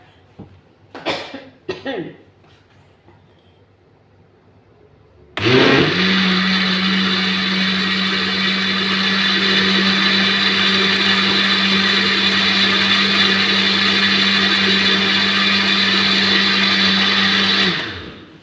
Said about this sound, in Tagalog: sana all may bago na ng blender